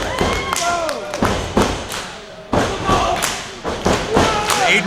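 Wrestlers slam down onto the ring canvas at an IWC independent wrestling show: a series of heavy, close thuds at irregular intervals, set against steady crowd noise and talking.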